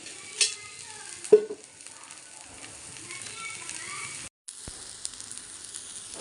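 Onions frying in oil in a pan for onion dosa, a low, steady sizzle under a few brief spoon knocks and scrapes, close and quiet, with a short gap near the end.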